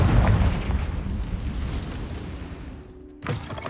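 A Confringo fire spell bursts in a booming explosion in the game Hogwarts Legacy, loud at first and rumbling as it decays, followed by a short crackling pop near the end; no talking.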